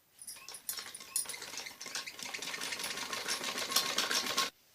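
An electric sewing machine runs a continuous, rapid stitching whir along the upper edge of a padded blouse border, close and steady for several seconds before stopping abruptly, with no talking.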